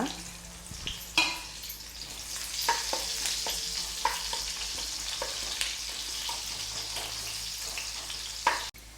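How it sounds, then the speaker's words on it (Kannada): Chopped onions fry and sizzle in a pan for Mangalore-style sardine pulimunchi, with a utensil scraping and stirring in steady, irregular strokes over a constant close hiss; no talking. "ನೀರುಳ್ಳಿ ಮಸ್ತ್ ಕಾಯೋಡಂದು ಜೀವಂತ ಕಾಯ್ಬೇಕ"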